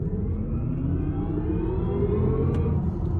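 A BMW iX M60 electric car produces its synthesized futuristic drive sound from inside the cabin: a loud, steady blend of layered tones that slowly rise in pitch as it moves, with no talking.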